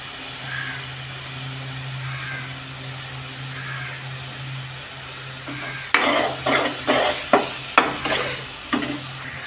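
Ginger fries in oil in a pan for an egg curry: a soft steady sizzle with a low background hum, then a run of loud rhythmic stirring scrapes in the second half.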